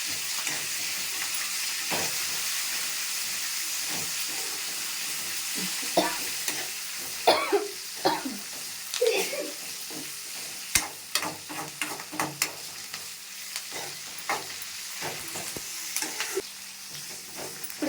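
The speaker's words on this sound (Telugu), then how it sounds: "ఇది కరివేపాకు, కొత్తిమీర కూడా వేగిపోయింది." Curry leaves and coriander fry in hot oil in a kadai, a steady close sizzle throughout with louder crackling pops and bursts of spattering in the middle and later part, no voices.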